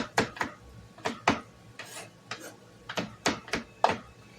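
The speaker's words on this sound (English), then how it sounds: "I'm going to go ahead and just chop this" A knife chops lemon zest on a board in a series of sharp, close taps, some in quick pairs and others spaced apart, with no talking over them.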